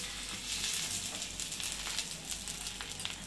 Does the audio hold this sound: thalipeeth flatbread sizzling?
yes